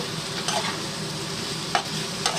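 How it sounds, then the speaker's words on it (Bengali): Spices stirred as they fry in mustard oil, a steady broadband sizzle with a few brief scraping accents from the spoon, close and continuous, with no voices. "ভালো করে নাড়াচাড়া করছি"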